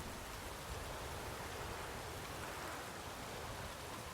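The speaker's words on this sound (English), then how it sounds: "I'm not sure that I'm really feeling this rain, though." Steady rainfall in the video game The Witcher 3: Wild Hunt, a soft, even hiss of drops that continues without a break at a low, constant level.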